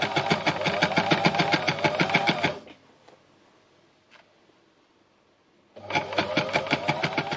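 An embellishing machine stitching fabric strips under mesh, a rapid, loud mechanical needle clatter that runs close by, pauses for about three seconds, then starts again.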